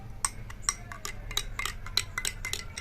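A spoon clinks and taps against a glass while stirring jaljeera powder into water, a quick irregular run of light metallic ticks over a soft low hum.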